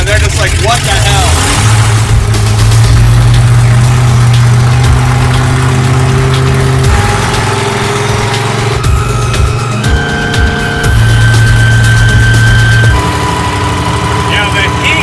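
Stubby Bob, a loud custom car, throbs steadily under way, its deep mid-range engine note holding and shifting pitch as it drives, with people talking in the cabin over the rumble.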